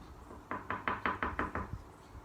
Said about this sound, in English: So she went and knocked the door